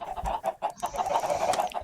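Video game chickens in a Minecraft-style survival world cluck in quick, choppy bursts, several birds overlapping in a busy, close-up flurry with no talking.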